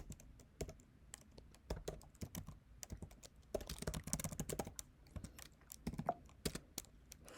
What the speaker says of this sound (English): So we need to type sudo grep